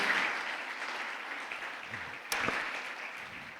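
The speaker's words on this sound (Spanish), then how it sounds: "Dale un fuerte aplauso al Señor Jesús" A church congregation applauds for a pastor's sermon, a steady wash of clapping from a crowd throughout, with one sharp louder crack partway through.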